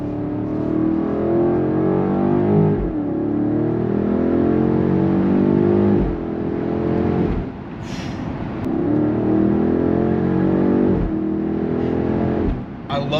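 A BMW X5 M60i with a full Valvetronic exhaust revs repeatedly in sport mode, its engine climbing smoothly through the rev range in long rising pulls separated by sharp shift cracks, loud and close with some talk underneath.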